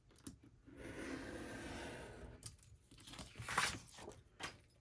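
Paper being cut for a scrapbook page, with a sustained crisp rustling tear followed by a few short sharp snips and crinkles, close and fairly quiet.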